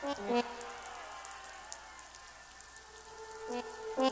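Rain falling in the physics sandbox game Besiege, a steady patter that holds throughout under bright in-game musical tones, with short louder bursts near the start and end.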